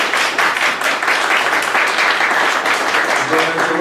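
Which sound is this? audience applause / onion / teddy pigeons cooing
audience applause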